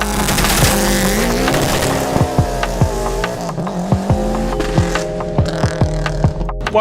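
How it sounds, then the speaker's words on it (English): Subaru SJ1000 hillclimb race car driving: a loud, close engine note with a repeated rhythm of sharp gearshift or backfire pops over a steady roar, with no speech. "this is the SJ1000 Subaru"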